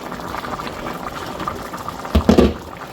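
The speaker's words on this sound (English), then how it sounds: "we're going to let this come to a boil" A covered pot of water on a kitchen stove at a boil for elbow macaroni, giving a steady low bubbling and hiss with a few louder burbling surges near the end, close and alone.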